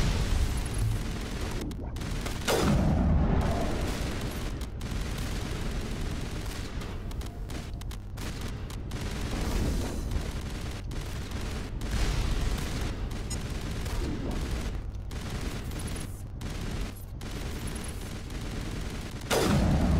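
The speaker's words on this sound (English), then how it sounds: "someone's shooting at us still" Gunfire in the Mass Effect 1 video game, with repeated bursts of shots over a dense, loud battle bed and voices talking over the action.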